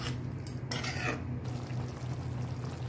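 Turmeric powder mixture being stirred in a cooking pan, with a few close scraping and clinking strokes of a spoon early on over a steady low kitchen hum.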